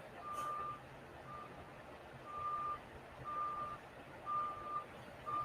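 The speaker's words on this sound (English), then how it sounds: "Somebody backing up." A truck backing up nearby: steady, evenly spaced reversing beeps repeat about once a second, thin and moderately loud over low engine rumble and background noise.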